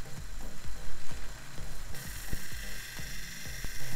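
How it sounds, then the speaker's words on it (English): Knife blade being freehand bevel ground, likely on a belt grinder, giving a loud continuous abrasive hiss over a low rhythmic thumping that recurs with each pass, close up, with no talking. "I'm really trying to work on my freehand bevel grinding skills"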